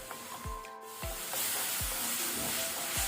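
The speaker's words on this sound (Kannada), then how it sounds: "ಇದನ್ನು ನಾವು ಕಡಿಮೆ ಅಂದರೂ 5 ರಿಂದ 6 ಮಿನಿಟ್ ಆದರೂ ಫ್ರೈ ಮಾಡ್ಕೊಳ್ಬೇಕು" Tomato masala fries in oil for a palak egg gravy, hissing and sizzling continuously at close range, with a few soft spatula knocks against the pan.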